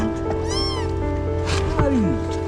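A kitten meows several times, a short high cry followed by others, close by with a steady background hum and rain, while someone talks softly to it.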